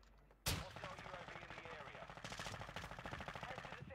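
Rapid automatic gunfire from a video game, starting with a sharp loud shot and continuing as dense, steady bursts at close range, with faint talk underneath.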